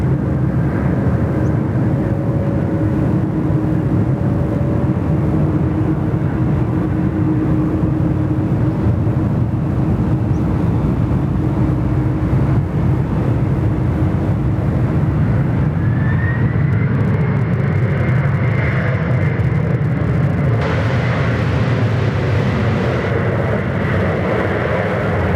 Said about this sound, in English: Little dashy Q400 just crossing the field as well.